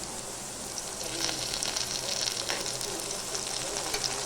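Ginger paste and crushed garlic frying in a pan while being stirred, a steady hissing sizzle at moderate distance that grows a little louder partway through.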